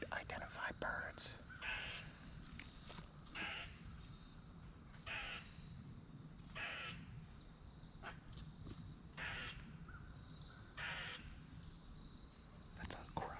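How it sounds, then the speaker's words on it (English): Repeated harsh caws from a crow at a distance, spaced irregularly while someone whispers quietly nearby, on a hiking trail at Bushy Run Battlefield, Jeannette, Pennsylvania. "That's a crow."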